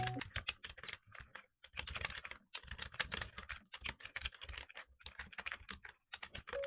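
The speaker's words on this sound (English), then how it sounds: "They're designed to make typing almost whisper quiet" Typing on an Eweadn F98 keyboard with an aluminum alloy panel and water drop pudding keycaps, quick soft muted keystrokes in bursts with short pauses, close and quiet.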